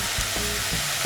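Vegetables with salt stir-fried in a pan for a coconut milk stew, a dense, steady sizzle with a few soft stirring knocks, close and continuous.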